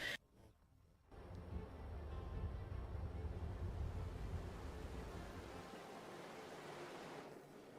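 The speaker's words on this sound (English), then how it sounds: "the engine's sound remains truly remarkable" A ship's engine runs steadily at sea in a ship simulation game, a loud continuous low rumble with broad wash noise that holds for several seconds after a brief quieter start.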